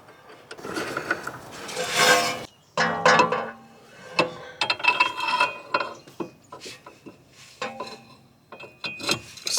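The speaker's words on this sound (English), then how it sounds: "we're torquing this down to 65 foot-pounds" A torque wrench tightens a bolt to 65 foot-pounds on a broken-down minivan, producing loud, irregular metallic ratcheting clicks and clanks in repeated bursts with brief pauses between them.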